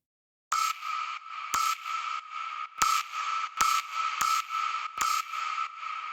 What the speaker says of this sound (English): those together make the kind of piercing stab